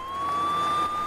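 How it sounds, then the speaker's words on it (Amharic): An ambulance siren sounds as the vehicle approaches, a loud, sustained electronic wail holding steady and clear over faint traffic. "ያ አምቡላንስ እየመጣ ነው"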